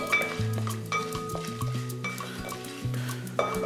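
Whole spices roasting in oil in a pot for Arabic chicken and rice, with a utensil scraping and clinking against the metal in an irregular stirring rhythm over a faint sizzle.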